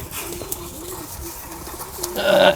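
Domestic desi pigeons coo softly in repeated low murmurs at close range, ending in a louder burst of flapping wings as they take off.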